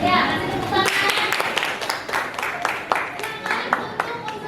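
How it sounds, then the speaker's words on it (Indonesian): Students in a classroom give a round of hand clapping, the claps sharp and irregular at close range, with a voice audible near the start. "Ya, kasih tepuk tangan"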